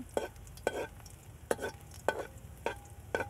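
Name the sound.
sautéing a little ginger in a pan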